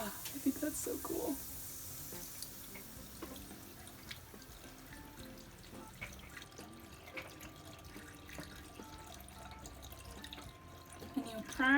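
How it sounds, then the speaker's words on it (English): Water trickles and drips from a Black Berkey filter element as it is primed from a running tap, a wet, uneven splashing with a voice heard now and then. "water is coming out of the sides like we want it to"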